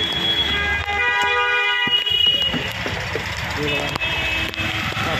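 City traffic in the rain with car horns honking repeatedly, several short toots and longer blasts over a steady rumble of engines and wet road noise, with people talking nearby.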